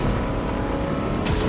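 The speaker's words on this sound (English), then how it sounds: "Speeding on land with the boat." A motorboat speeds over land in Fortnite, its engine a loud, steady, close roar that holds throughout, with a brief burst of added noise at the end.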